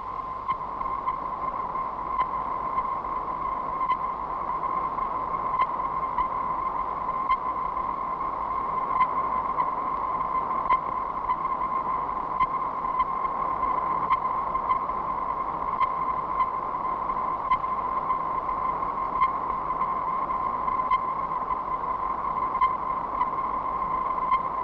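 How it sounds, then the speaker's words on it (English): Radio signals from a giant telescope, bounced off the moon and returned, come back as a steady electronic tone with faint regular pings, even and unbroken for nearly half a minute, with no speech. "These sounds, brought back by the giant telescope,"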